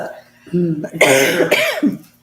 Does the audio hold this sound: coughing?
yes